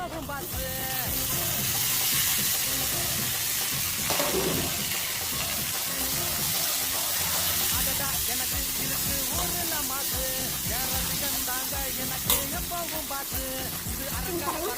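Steady sizzling and crackling of vegetables with tomato frying in a pan, with scraping stirs and a brief clatter near the end. A voice speaks faintly underneath.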